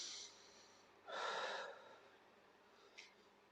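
A single deep breath drawn in and out while holding a standing yoga balance pose, close and fairly loud, followed by a brief faint puff of air; otherwise quiet.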